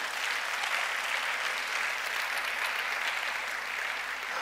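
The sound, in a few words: congregation applauding in church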